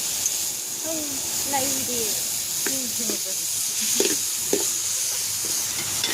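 Chopped tomatoes fry in a pan for a large batch of chana masala, a steady broadband sizzle with occasional stirring knocks, while a voice talks intermittently over it.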